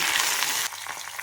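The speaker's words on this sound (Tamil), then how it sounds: "தாளிக்கிறதுக்கு கடுகு, சீரகம், பச்சை மிளகா, பெருங்காயம், கறி." Mustard seeds, cumin, green chili, asafoetida and curry leaves sizzle in hot oil for tempering, a steady loud crackling fry that drops a little in level partway through with scattered pops.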